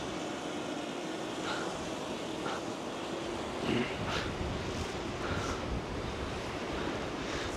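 Strong wind blows across a beach, a steady broadband rush with slight gusts and no voices.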